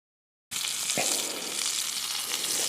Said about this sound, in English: Using the stick stove to cook a steak, you see it's browned that first side very nicely